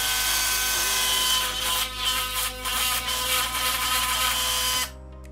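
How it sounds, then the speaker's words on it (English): A loud Philips Sonicare electric toothbrush buzzes continuously up close with a harsh, rattly high whine that wavers slightly before cutting off abruptly near the end. "Let's check where the problem is on the loud one."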